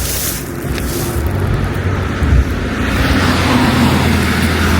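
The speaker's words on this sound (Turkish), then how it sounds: "Bir araba geçiyordur." A car passes on an icy winter road in Germany in the dark, a broad steady road roar that swells slightly toward the end, heard fairly close with no talk over it.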